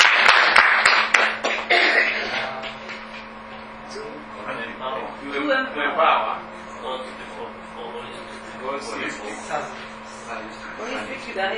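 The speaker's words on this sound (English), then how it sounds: "Can we clap for him?" At a church diocese workshop, a few sharp, loud hand claps ring out at the start and fade within about a second, followed by a speaker talking and the room responding.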